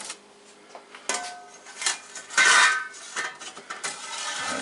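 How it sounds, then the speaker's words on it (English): A metal lid set onto a seafood boil pot, several clanks and scrapes of metal on metal with one louder clatter midway, close and clear with no voices. "Now we're going to get this lid on."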